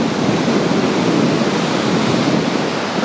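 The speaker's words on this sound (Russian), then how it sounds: "на нее же вода вот так затекает в легкую из-за прибоя" Sea surf on a beach spit at Anapa, a loud continuous broadband rush of water washing over sand, steady and close with no voices.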